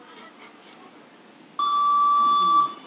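Workout interval timer bell sounds once, a sustained bright electronic ring lasting about a second after quiet background voices in a gym.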